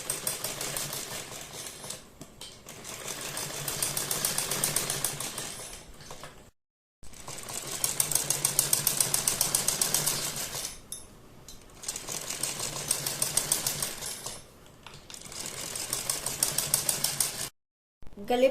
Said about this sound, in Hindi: ये कच्ची सिलाई लगाने के बाद अब हम अपने गले पर सिलाई लगाएंगे